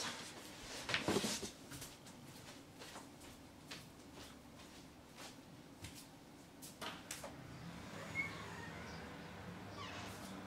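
A house cat meows at a window, a short, fairly clear cry early on, followed by faint scattered knocks and household movement in a quiet room.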